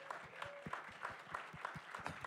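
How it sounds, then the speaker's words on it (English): A modest audience at a hip hop film celebration applauds, with loose, distinct hand claps in an uneven rhythm, fairly quiet and alone without talk. "Let's give a round of applause for that."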